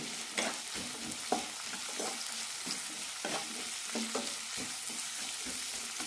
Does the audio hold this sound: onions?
yes